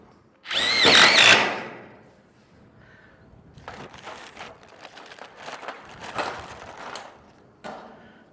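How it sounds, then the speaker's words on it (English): A power drill drives a screw during a rooftop gutter rainwater-capture build, starting with one loud whining burst and followed by several quieter, shorter spurts of drilling nearby. "Go ahead, let's put a screw down there."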